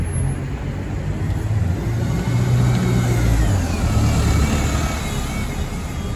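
Bus pulling away on the Moorends 87 route at Doncaster Frenchgate bus station, a steady engine drone that swells as it accelerates, with a faint rising whine across the middle.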